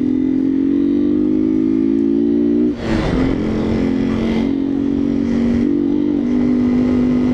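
A Yamaha Factor motorcycle engine idles loudly and steadily up close, then revs in several quick bursts before settling back to a constant hum.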